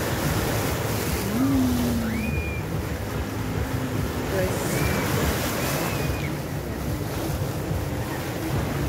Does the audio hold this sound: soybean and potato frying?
no